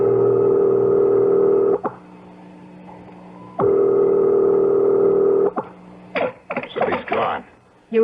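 A telephone sounds in an old-time radio mystery drama, two long steady tones broken by brief clicks, clear and close, followed by someone speaking.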